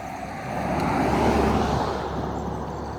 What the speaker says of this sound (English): So I'm just going to leave this truck in. It's not very loud.